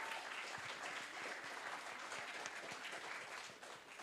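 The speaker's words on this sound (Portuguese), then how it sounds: "uma salva de palmas para Edna Savagé" An audience at a book launch for an African tales collection claps steadily, a dense even patter of many hands at moderate distance, fairly faint overall, with no speech on top.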